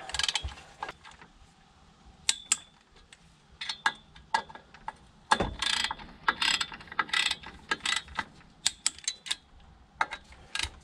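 A ratchet tightens bolts during a clutch kit replacement on a Peugeot 207 1.4 HDi diesel, giving quick runs of sharp clicking in irregular bursts, close and fairly loud with no talk.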